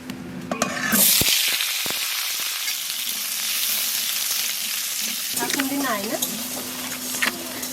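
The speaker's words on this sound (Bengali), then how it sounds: "মাছ ভাজার তেলের মধ্যে আলু কাটা দিয়ে দেবো" Cut potatoes drop into hot oil left from frying fish, giving a loud burst that settles into a continuous, close crackling sizzle with occasional stirring clatter and a brief voice near the end.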